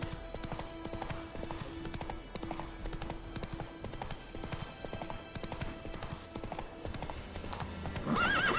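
Horse hooves clip-clop in The Witcher video game, a steady rhythmic trot at close range with a whinny near the end, under quiet game ambience and no talking.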